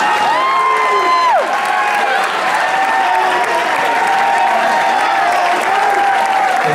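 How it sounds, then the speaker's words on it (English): Steady, dense applause from a sizable wedding crowd, loud and sustained throughout, with a few whoops and voices rising over the clapping. "Let's give him a nice round of applause."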